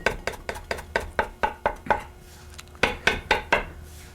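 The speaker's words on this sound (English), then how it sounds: "I don't mind chopping a little extra parsley" Knife chopping parsley on a cutting board: a steady run of crisp, close taps, a brief pause, then a few more strokes, with no talk.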